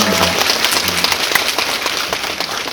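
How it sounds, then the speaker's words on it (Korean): A theater audience at a film screening Q&A claps for the director, with a steady wash of dense, rain-like applause throughout the short stretch and a faint voice at the start. "마지막까지 수고해 주신 우리 감독님께 박수 한번 부탁드리겠습니다"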